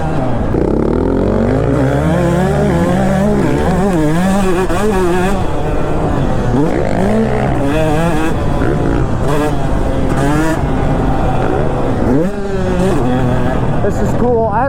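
A two-stroke dirt bike revs hard under heavy throttle on a trail ride, a loud, continuous engine that rises and falls in pitch, with voices talking over it.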